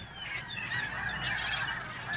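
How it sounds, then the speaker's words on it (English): Gulls gather far out over water where herring are spawning, a dense distant chorus of overlapping calls that runs without a break. "See all the seagulls way out there?"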